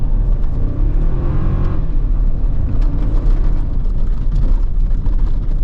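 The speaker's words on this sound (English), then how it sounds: "Bit of washboarding through here." A 2024 Toyota Tacoma TRD Off Road runs over a washboard dirt road in the desert with traction control off and sport mode on, giving a loud, steady engine and road rumble with constant rattling vibration throughout.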